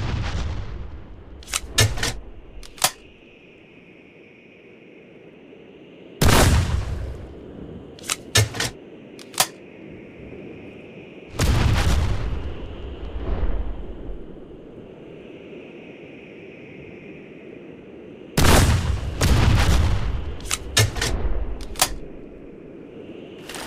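RPG-7 rocket launcher firing in the video game Gorebox, several sharp loud blasts with long rumbling tails, spaced apart over a steady background hum, each shot followed by a few quick clicks.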